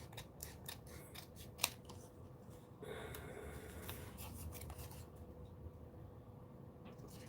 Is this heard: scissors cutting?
yes